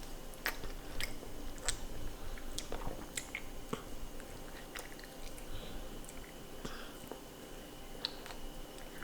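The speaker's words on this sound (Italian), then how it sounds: "Stai ancora masticando?" A child chews food close to the microphone, with soft, irregular wet bites and squishy mouth sounds spread across the quiet clip and no speech.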